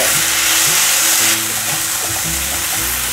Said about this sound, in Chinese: 大略拌炒一下，可以放入一些水。